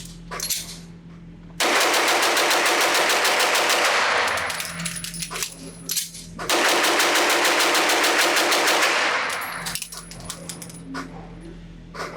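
Rapid strings of pistol shots from a Walther Q5 Match SF steel-frame competition pistol at a shooting range, two long fast volleys of loud cracks separated by a short pause, with no talking.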